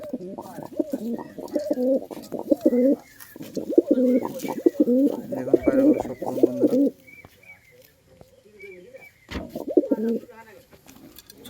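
Caged pigeons coo in repeated throaty bursts close by, several rounds of rolling coos with short pauses between them and faint background noise.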